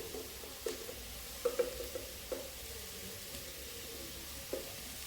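Sliced onions, green chilies and curry leaves sauté in a pan for a cauliflower gravy, producing a faint, steady sizzle broken by a few soft clicks from stirring.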